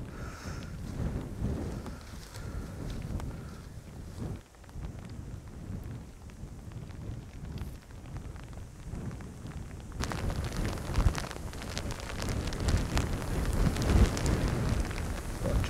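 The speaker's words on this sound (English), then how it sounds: "they forecast strong winds and a drop of rain, and we've certainly got that" Strong wind and rain roar outdoors in a field during a deer stalk, a dense, continuous rush that swells louder partway through, with no voices.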